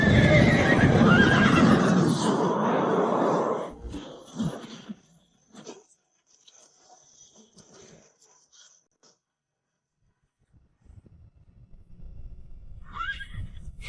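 Cavalry horses neigh and whinny amid galloping hooves in an animated drama battle scene, loud and dense at first, then dropping to scattered faint hoof and clatter sounds before a low rumble returns.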